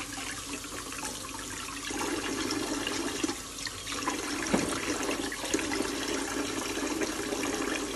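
Running water pours steadily from a tap as lamb trotters are thoroughly washed in a kitchen sink, a faint continuous rush with brief splashes and no speech.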